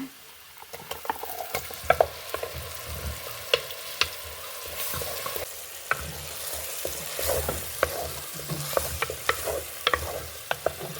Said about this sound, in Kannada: ಈ ನೀರುಳ್ಳಿ ಮಿಕ್ಸಿಗೆ ಹಾಕೊಂಡದನ್ನು ಹಾಕೊಂಬ